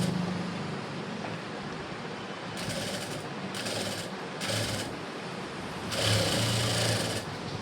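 Sewing machine stitching slowly around a curved blouse neckline, short bursts of mechanical whirring starting and stopping in uneven spurts over a steady background hum.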